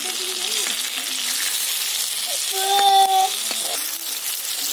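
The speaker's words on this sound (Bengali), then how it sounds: "এই দুই পিঠটা ভালো করে ভেজে নিতে হবে" Drumstick flower and prawn pakoras frying in a pan of oil, a steady close sizzle running throughout with a brief brighter tonal blip in the middle and no talking.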